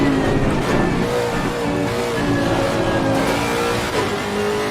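A GT race car engine in Assetto Corsa Competizione, a saloon-based car, drones steadily and loudly at mid pitch through the whole stretch, climbing in brief revs with no voices over it.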